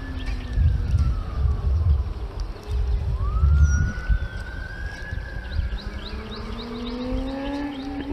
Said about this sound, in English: Sounds like there's a police chase going on with a motorcycle or something